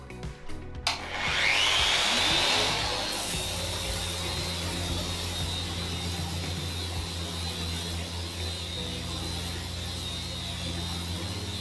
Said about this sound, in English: Now we're going to try it on the geared sander mode.